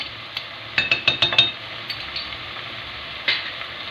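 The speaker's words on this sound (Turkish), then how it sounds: "Kıymamız kavruldu biber salçasını koyuyorum." Minced meat frying in a pan as pepper paste goes in gives a steady close sizzle, broken by a quick run of sharp spoon clinks against the pan and one more clink near the end.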